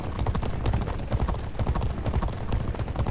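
Galloping horse hooves in a G1 Jockey 4 horse race, a fast, loud, continuous drumming of clip-clop beats close by, heard alone without talk.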